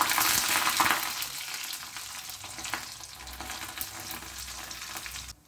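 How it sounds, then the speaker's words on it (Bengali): Dry red chilies, cumin and coconut fry in hot oil for khichuri, giving a steady close sizzle with light stirring scrapes throughout and no talking. "দিচ্ছি শুকনো লঙ্কা, জিরে, কিছু নারকেল ভেজে নেব।"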